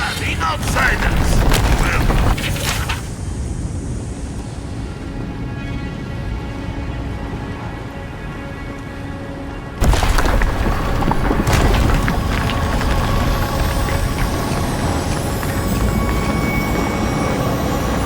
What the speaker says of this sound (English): That was a damn big explosion, wasn't it?